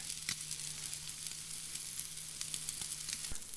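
Steak sizzles on a campfire in cold winter weather, a steady broadband crackle and hiss close by with scattered sharp pops, continuous and fairly even throughout, with no talking.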